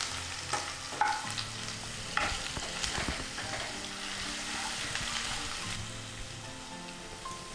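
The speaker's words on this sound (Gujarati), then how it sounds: "આ બધું 1 મિનિટ માટે સાંતળી લઈએ" Chopped green chillies sautéing in a pan over a very low flame, a steady close sizzle with occasional stirring scrapes and clicks throughout, no talking.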